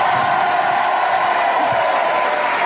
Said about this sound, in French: C'est vrai, vous les avez applaudis.